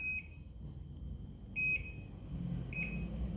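Buzzer on an ultrasonic distance sensor project gives three short, shrill electronic beeps spaced more than a second apart, clear over faint background noise.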